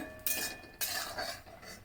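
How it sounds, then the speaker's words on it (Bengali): Fried lentil dumplings (bori) are lifted out of mustard oil, giving two sharp metallic scrapes and clinks of a ladle against the pan over a soft sizzle. "বড়িগুলো আমি তুলে নিচ্ছি"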